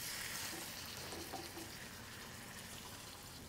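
Miso-glazed salmon frying skin-side down in a pan for a stir-fry, giving a steady, close crackling sizzle that stays fairly even throughout with no talking.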